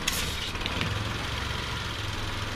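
A 2012 Nissan Versa engine with a rough idle runs steadily with a low, rough rumble, close by and continuous, with a few light clicks near the start.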